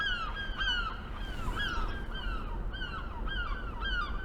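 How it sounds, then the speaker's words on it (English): Repeated harsh gull cries ring out overhead near Beach House Park, several birds calling in overlapping bursts over a steady outdoor rumble. "there's a lot of seagulls up above making a"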